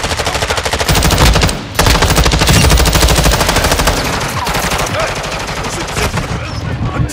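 Rapid automatic gunfire in Call of Duty Modern Warfare II, a dense, loud, continuous stream of shots with a brief pause, over other battle noise and occasional voices.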